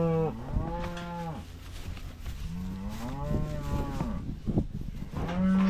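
Nervous young calves crowded in a cattle chute, never handled before, moo repeatedly in long wavering bellows, close and loud, one call overlapping another with rustling movement between.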